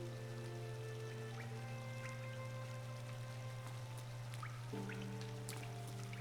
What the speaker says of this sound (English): Weird waterfalls pouring out of bug mouths.